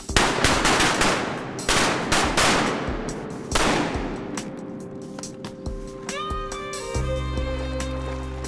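Duck hunters fire shotguns in a loud, rapid volley of overlapping gunshots, with bursts in quick succession over the first several seconds before the shooting thins out and fades.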